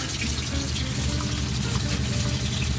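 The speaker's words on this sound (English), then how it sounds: "And I can feel water going through." Water runs steadily through the pipework of a campervan sink, a continuous broadband rush with no breaks, fairly close and alone.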